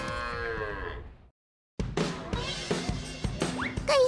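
Cattle on Sapudi Island moo loudly and nearby in long, drawn-out calls. A brief pause follows, then a busy stretch of livestock noise and further lowing.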